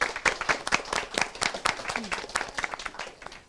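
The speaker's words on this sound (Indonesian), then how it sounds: "Semakin ramai ya tepuk tangannya teman-teman." A small audience at a student cooking battle show claps in brisk, uneven bursts, close and fairly loud, with a voice briefly heard over the applause.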